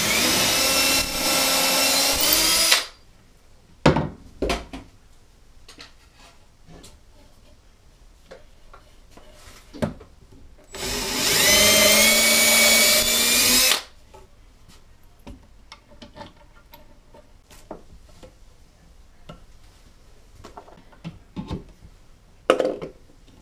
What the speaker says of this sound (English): When I'm going to drill my bigger hole,